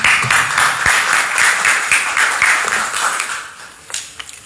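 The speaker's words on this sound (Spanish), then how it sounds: "Un aplauso." An audience at a digital humanities panel debate applauds: a dense, loud wash of many hands clapping at once, holding steady and then thinning out into a few scattered claps at the end.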